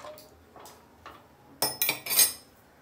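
A spoon clinks against a pot while stirring katachi aamti, a few faint taps followed by a cluster of louder, sharp metallic clinks.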